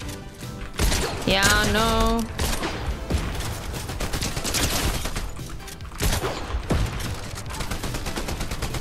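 Repeated enemy gunfire in an online battle royale shooter, dense bursts of loud shots rattling through most of the stretch, with a player's short spoken remarks over it.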